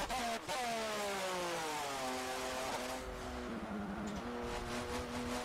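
F1 car in Forza Motorsport 7 screaming around the Nordschleife, its high-pitched engine climbing through gears with quick downshifts and rising whine, loud and continuous.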